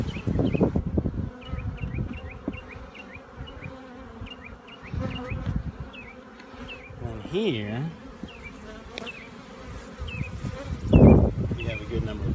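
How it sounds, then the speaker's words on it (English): Honey bees hum steadily in an open hive frame ahead of a tropical storm, a close continuous buzz with brief handling knocks and short bursts of nearby speech. "we have a good number of bees in there."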